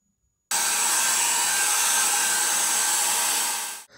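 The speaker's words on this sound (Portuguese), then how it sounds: "vou acelerar a secagem com o secador" A hair dryer drying decoupage on a ceramic roof tile starts abruptly and blows with a loud, steady whoosh for a few seconds before cutting off.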